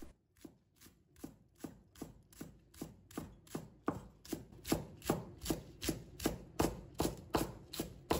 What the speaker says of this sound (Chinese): 再准备1根蒜苗，把它切成小粒。